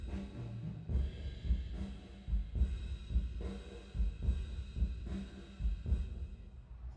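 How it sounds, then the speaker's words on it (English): Kick drum with reverb in a mix, thudding in a steady repeated pulse of about one hit per second, each low hit followed by a diffuse reverberant tail, heard alone without talk. "We have this reverb on the kick,"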